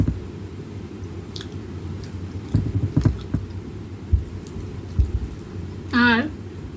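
Someone eats boiled rice with ghee by hand, giving soft wet squishing and chewing sounds in irregular bursts, close and fairly quiet, with a brief higher sound near the end.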